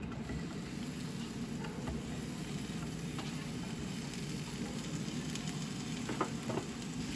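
White onion and tomatoes frying in a pan, a steady soft sizzle with occasional light stirring clicks, faint and continuous throughout.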